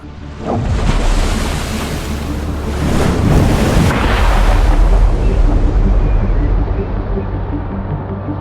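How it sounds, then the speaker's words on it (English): Ocean waves crash and surge in a continuous loud roar, with bursts of wind buffeting the microphone. "The waves crash against each other, a swirling mass of foam."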